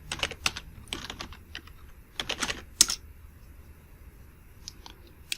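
Computer keyboard typing in short bursts of quick, close key clicks with brief pauses between them, as dates are entered into a database form.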